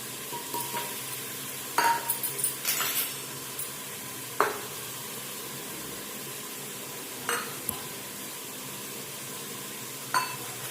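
Mutton masala with tomato, chili powder, coriander powder and garam masala frying in a pan, a low steady sizzle broken by a few scattered scrapes and taps of a spoon stirring, close and fairly quiet.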